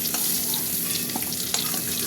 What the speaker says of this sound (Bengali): আলুটা একটু ভাজা ভাজা করবো, তাহলে খেতে টেস্ট হবে।